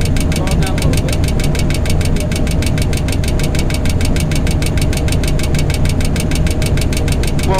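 Simulated aircraft engine in Microsoft Flight Simulator X drones loud and steady with a fast rhythmic throb, a continuous close engine note throughout.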